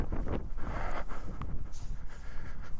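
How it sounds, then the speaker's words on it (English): Wind buffets an outdoor microphone beside a motorcycle during slow-speed riding practice. It comes as loud, uneven low gusts and rumble, close up, with no voices. "I think the wind's blowing this direction."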